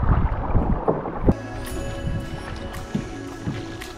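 A kayak paddled fast on the sea in Ang Thong Marine Park, Thailand, with wind buffeting at first, then quick paddle strokes splashing over steady water wash.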